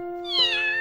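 A kitten in an anime gives a single short, clear meow close up, rising in pitch partway through.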